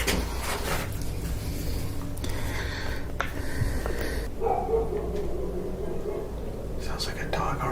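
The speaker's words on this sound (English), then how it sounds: "Sounds like a dog already on the outside." Outside a cemetery, a dog barks faintly at a distance, with a few muffled woofs. Soft whispering and shuffling noises are nearby.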